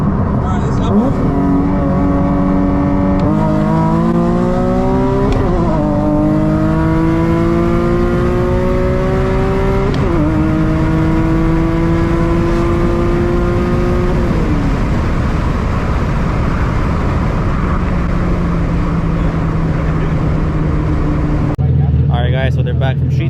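A Nissan 370Z running on E85 revs through repeated rising tuning pulls, its engine note climbing through the gears and dropping at each shift, loud and close, with talk underneath.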